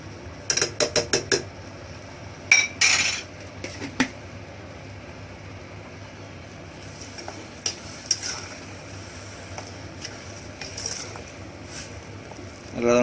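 Sugar being stirred into a mixture in a pan for paal vaayaka, with a burst of quick scraping clatters at the start, then scattered spoon knocks and scrapes against the pan over a faint steady sizzle.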